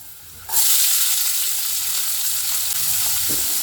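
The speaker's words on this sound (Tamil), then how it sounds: "வெங்காயம் நல்லா வதங்கி வரட்டும்" Chopped onions and green chili sautéing in a hot pan, a loud sizzle bursting in as they hit the oil and then holding as a steady close frying hiss, with a faint clink of stirring near the end.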